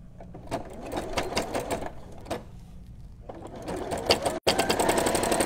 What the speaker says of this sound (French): Puis, je vais venir faire une couture sur le bord.